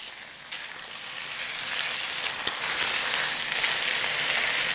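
Chicken wings sizzle steadily in a pan as they are stirred and coated in golden fish sauce, a continuous close frying hiss with a faint scrape of stirring, no voices.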